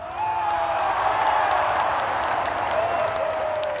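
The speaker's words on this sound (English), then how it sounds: "I was standing in the crowd at Weltklasse Zurich, watching the world's most accomplished pole vaulters launch themselves into the air" Crowd noise at the Weltklasse Zurich athletics meet during the pole vault, a steady, loud wash of murmuring spectators with scattered cheers and whistles throughout.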